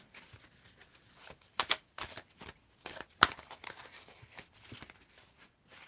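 Oracle cards from a Crosswords deck are shuffled by hand nearby, producing intermittent crisp flicks and soft slides with one sharper snap, the sounds coming in uneven bursts with brief quiet gaps.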